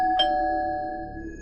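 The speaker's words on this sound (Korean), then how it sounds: "그때 초인종 소리가 들렸다." A single electronic doorbell chime rings out clearly with sustained bell-like tones that fade away over about a second, with no other sound around it.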